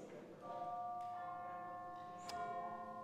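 Several bells ring together in a sustained, layered chime at moderate loudness, fairly near, with a couple of sharp strikes near the start and midway.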